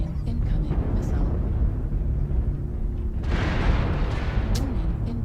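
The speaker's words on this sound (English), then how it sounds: "Warning, incoming missile." Missile explosions in a combat video game: rumbling booms and low blasts roll continuously, with a heavier burst swelling midway, loud and close.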